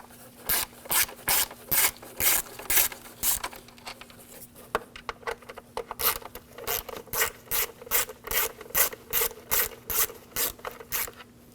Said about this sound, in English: we're going to take these screws out for the cover